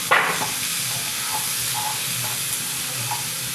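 Mixed vegetables for khichuri frying in a pan, a loud hissing sizzle that flares at the start as they go in, then settles into a steady crackle with a few soft stirring knocks.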